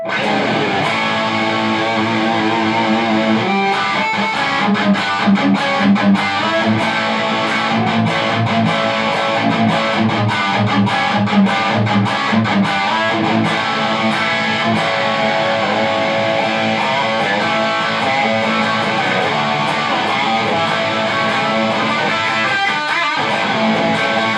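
Heavily distorted electric guitar through the high-gain orange channel of a Marshall JVM 410 amp plays loud, driving chords and riffs with a saturated, crunchy tone, sustained and continuous with no voices.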